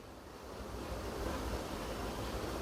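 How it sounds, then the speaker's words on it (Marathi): Water boils in a pan on the stove, ready for steaming Goan mandos, a steady close rushing bubble and hiss that holds constant with no voices. "हे बघा, हे पाणी उकळत आहे."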